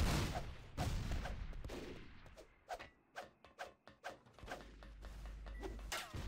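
A grenade explosion and combat in the online shooter MicroVolts: a heavy blast followed by a rapid string of sharp, punchy bursts and rattling impacts, fairly quiet overall, ending in a low rumbling roar.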